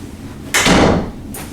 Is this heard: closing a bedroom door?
yes